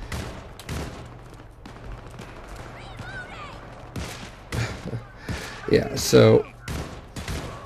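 Pistol gunfire in the co-op shooter Syndicate, with sharp shots scattered through the clip and a louder, denser burst near the end, layered under game effects and a brief bit of speech.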